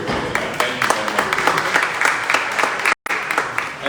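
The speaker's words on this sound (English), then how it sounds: "We'd like to give y'all a round of applause." A hall full of people claps loudly and steadily for members of the clergy at a community town hall meeting, with a dense, sustained wash of applause broken only by a brief dropout near the end.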